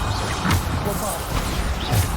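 Bombarda explosion spell cast in Hogwarts Legacy: two short, blunt blasts land about a second and a half apart over a steady bed of game combat noise.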